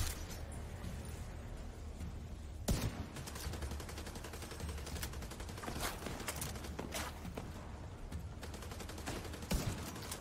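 Shotgun blasts and rattling automatic fire in The Division 2, two loud sharp shotgun booms standing out over continuous gunfire and battle noise.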